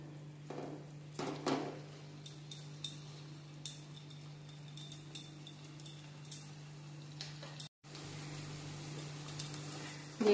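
A spoon stirs spice paste frying in oil in a pan for potol paneer dalna. Sparse, light metallic clinks and taps sound over a faint, steady hum in a quiet kitchen.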